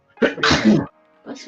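A single sharp sneeze bursts out at close range among people chatting at a German Beer Day gathering, followed by a short pause and then a voice speaking.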